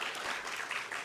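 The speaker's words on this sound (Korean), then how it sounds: "박수 하시겠습니다." A church congregation applauds together during a Sunday worship service, a dense, steady wash of clapping that fills the whole second without a break.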